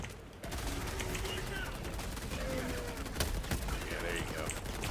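Continuous dense gunfire from a video game shooting match, rapid overlapping shots and bursts filling the sound with sustained loud crackle, voices faintly mixed in.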